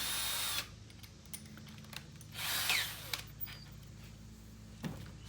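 A power drill fitted with a 3/4 inch spade bit whirs in a few short, quiet bursts, each spinning up briefly and then stopping, with low background hum between them.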